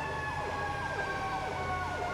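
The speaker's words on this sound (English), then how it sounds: "Copy. Air sirens." Emergency vehicle air sirens wail in a GTA V roleplay game, a steady rising and falling siren cycling about every half second over a constant engine drone, loud and close throughout.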